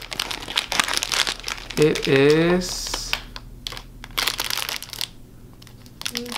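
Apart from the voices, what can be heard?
opening a foil packet by hand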